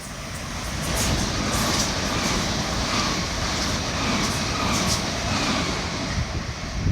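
A Great Western Railway train bound for Greenford passes at West Ealing on the Great Western Main Line, a loud, steady, close rumble and wheel roar that holds evenly throughout.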